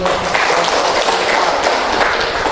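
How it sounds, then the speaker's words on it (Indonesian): Classroom applause from seventh-grade students after a group presentation, a steady dense patter of many hands clapping at once, sustained and fairly loud throughout. "kasih tepuk tangan dulu"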